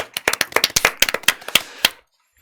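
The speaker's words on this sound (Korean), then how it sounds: "박수 한번 드려야지 또." Several people clap in a short, uneven burst of about twenty sharp claps over two seconds, close and fairly loud, stopping abruptly into silence; the applause follows news that MBC ranked first as the most-watched news channel.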